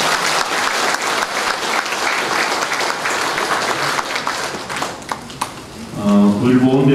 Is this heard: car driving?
no